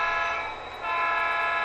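A model railroad locomotive horn blows two long, steady, loud tones close by at a model railroad museum, with a brief dip between the blasts.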